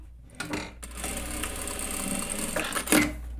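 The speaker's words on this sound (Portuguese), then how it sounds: "Vou costurar da mesma forma, só que eu vou deixar o meio aberto." A sewing machine stitches a fabric face mask in one continuous close whirring run, with a quick backstitch and the fabric shifting near the end, no talking.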